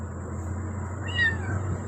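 A cat meows once, a clear rising-and-falling call at close range over a steady low household hum, with no talk around it.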